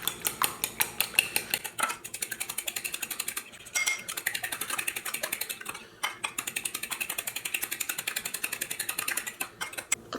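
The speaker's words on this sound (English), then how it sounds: "So now I'm going to whisk or beat the eggs." Eggs are beaten with a whisk or fork in a bowl for banana bread, a fast, close metallic clicking in steady rhythmic bursts with a few short pauses, no talking.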